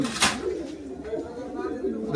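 Soft pigeon cooing under low background murmur at a pigeon shop in Boro Bazar, Khulna, with a louder rustle near the start.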